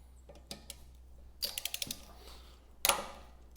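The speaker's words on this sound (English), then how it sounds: "snap my torque wrench on." A torque wrench ratchets on the blade bolts of a wood chipper, giving short clusters of quick metallic clicks and a few sharp snaps against a low steady hum, close and moderately loud.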